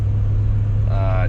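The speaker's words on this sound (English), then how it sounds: "you can kind of hear that the muffler's a little rattly" Inside the cab of a Ram 1500 with a Hemi engine, about 110,000 miles, with a slightly rattly muffler: a steady, close low-pitched exhaust drone runs throughout, and a brief voice enters near the end.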